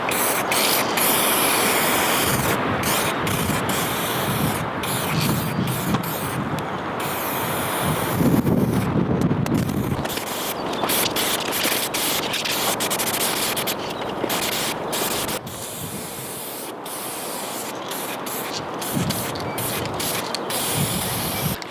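Matte clear coat being sprayed onto a hardtail bike frame, a loud continuous hiss in long passes, broken by brief pauses and faint mechanical clicks.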